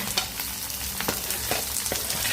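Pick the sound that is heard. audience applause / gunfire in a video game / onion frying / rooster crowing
onion frying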